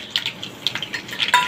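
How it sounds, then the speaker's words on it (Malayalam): Mustard seeds and fenugreek seeds crackle in hot oil as quick, irregular little pops close up, several in a row over a faint background. "കടുക് നന്നായിട്ട് പൊട്ടട്ടെ അപ്പോൾ നമ്മുടെ കടുക് പൊട്ടി തുടങ്ങുന്നുണ്ട്"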